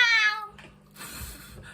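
A short, loud meow opens, followed by quieter rustling and a softer sound at the end.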